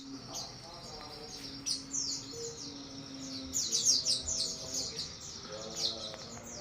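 At a songbird singing contest, several caged birds chirp and trill in quick high bursts, fairly faint against a steady low murmur of the crowd and background voices.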